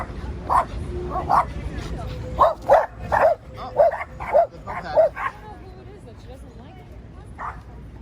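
Small, aggressive dogs in New York's Central Park bark and yip in rapid, close bursts, several in quick succession, then one last bark after a pause, with people talking nearby.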